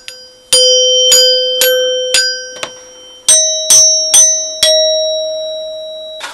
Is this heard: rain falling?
no